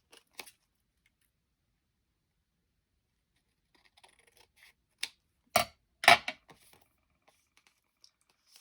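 Scissors trim paper for a hidden pocket envelope, a few sparse, quiet close snips and crisp paper rustles separated by silence.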